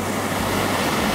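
National Creek Falls, a waterfall with heavy flow throwing off thick mist, gives a steady, dense roar of falling water that stays constant and loud the whole time, with no voices.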